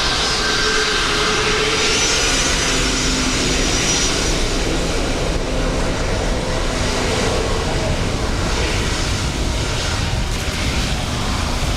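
Near and loud, an airliner roars in to land on runway 28 left at Dublin Airport on a wet day, its engine noise a continuous broad wash throughout.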